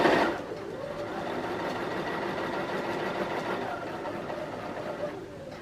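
A sewing machine runs steadily and close at an even slow pace, its continuous motor hum and stitching whir lasting several seconds after a brief louder start, with a voice faintly under it.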